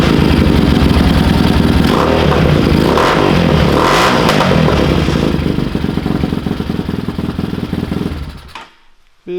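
A Bashan Motomax 250 motorcycle engine with performance upgrades revs hard and loud, snarling steadily before the throttle drops off and it cuts to near silence at the end.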